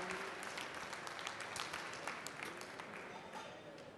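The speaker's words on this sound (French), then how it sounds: "On les applaudit." Audience applauding contestants at a winemakers' cooking competition, a steady round of clapping from a modest crowd, quiet overall and tapering slightly toward the end.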